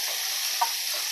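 Tomatoes and onions sautéing in a pan for prawn gravy give a steady, close sizzling hiss, broken once by a single soft stir or scrape partway through, with no talking.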